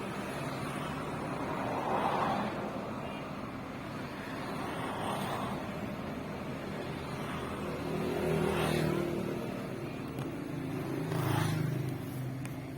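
Cars pass by on a road, with engine noise swelling and fading in several waves over a constant background rumble of moderate loudness.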